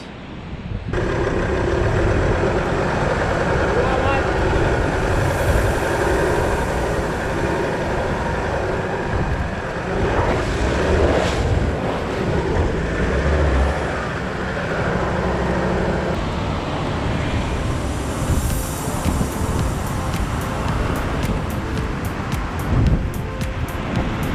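Ocean waves wash steadily beside a beachside campsite, with wind gusting and rumbling against the microphone in a constant loud wash, and no voices.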